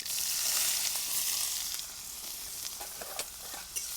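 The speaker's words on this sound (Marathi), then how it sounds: "लोखंडाची कढई असल्यामुळे पटकन परतून निघतो कांदा." Chopped onion sizzling in hot oil with mustard seeds and cumin in an iron kadhai, a steady loud hiss with occasional sharp pops and crackles, no talking.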